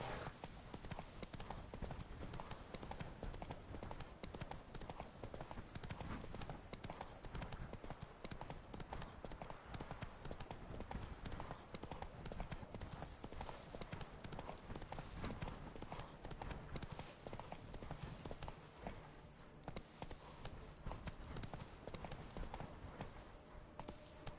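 A horse galloping in The Witcher 3 video game, a continuous rapid clip-clop of hooves that runs steadily for the whole stretch over dense game ambience, with a voice speaking briefly.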